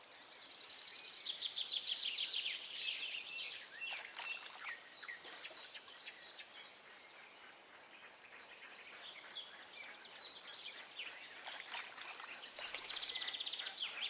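Game birdsong from the fishing game Fisher Online at a Siberian taimen-fishing spot: steady, overlapping chirps and tweets with high trills running throughout at moderate loudness, alone without talk.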